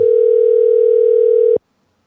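Telephone ringback tone heard during an outgoing call: one steady, loud, unbroken tone lasting about a second and a half, then stopping abruptly into silence.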